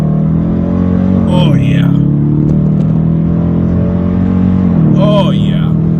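A 2019 Dodge Challenger R/T engine revs as it accelerates, a deep throbbing exhaust rising through climbing gear sweeps, close and loud, with a man briefly exclaiming over it.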